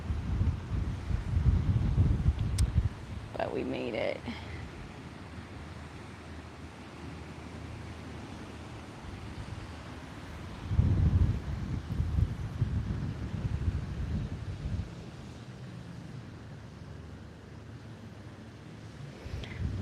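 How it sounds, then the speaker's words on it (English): Steady wind buffets the microphone at a beach with low rumbling gusts and a faint wash of surf behind it, while a voice speaks briefly near the start. "It's a little bit windy,"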